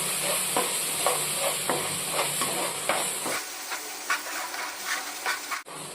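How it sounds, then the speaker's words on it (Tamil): Egg drop thokku masala of cumin powder, fennel powder and chaat masala being sautéed in hot oil: a steady sizzle and hiss with repeated scraping stir strokes, close and fairly loud. The frying tone shifts and settles partway through. "இது எல்லாத்தையும் சேர்த்து நல்லா வதக்கிக்கலாம்"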